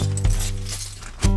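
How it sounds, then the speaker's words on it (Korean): Lego bricks swept up from the floor inside a wardrobe, a few sharp plastic clinks and rattles in quick bursts, close and fairly loud. "옷장 안에 있는 브릭도 살며시 쓸어준다."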